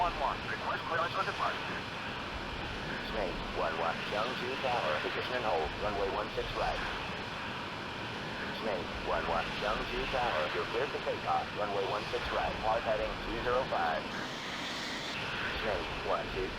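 Jet engine roar drones steadily under crackly radio-style voice chatter during a two-ship formation takeoff in the Falcon 4 Allied Force flight simulator.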